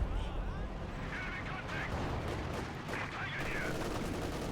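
Bren light machine guns firing in the World War II strategy game Company of Heroes 2, a dense, continuous battlefield clatter of overlapping bursts with distant explosions, steady and loud throughout, with faint voices mixed in.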